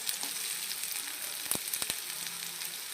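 Onion shallow frying in oil for lemon rice, a soft even sizzle nearby, with two or three quick spatula knocks near the middle.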